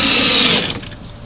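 Power drill driving screws into a teak console door: a loud, steady whirring burst for about half a second, then it stops, leaving a low hum.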